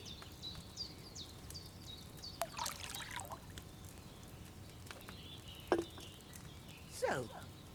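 Wine poured from a pitcher into a cauldron while brewing in the video game Kingdom Come Deliverance 2: a faint, soft trickle and dribble of liquid with a few light clinks and splashes in a quiet room.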